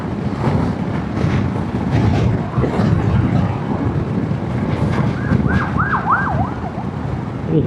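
An ambulance siren wails in the distance over loud, steady traffic rumble, its rising and falling tone emerging faintly near the end.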